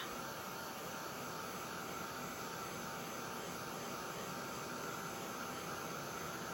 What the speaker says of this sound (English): And then I'm going to bring my heat tool in. Sorry if this is loud.